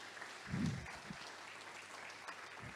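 A church audience at a Portuguese-language sermon applauds, a moderate, even patter of many hands clapping with a brief low vocal burst early on and occasional faint voices beneath.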